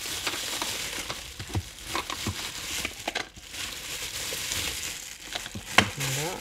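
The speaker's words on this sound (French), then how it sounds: "désolé si ça fait un petit peu de bruit, mais voilà, ce sont les petits inconvénients de l'unboxing" A scrapbooking and art journal package is unwrapped by hand, with continuous close crinkling and rustling of paper and plastic wrapping and scattered sharper crackles, fairly loud.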